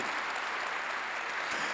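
A church congregation claps together in a brief, even burst of applause, fairly quiet and steady for under two seconds.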